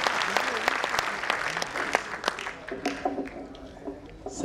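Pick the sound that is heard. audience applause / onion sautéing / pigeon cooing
audience applause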